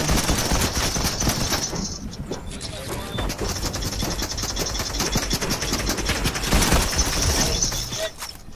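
Rapid, sustained assault rifle fire in a video game rattles on loud and dense for several seconds, with overlapping bursts and crackling impacts and only brief dips in intensity.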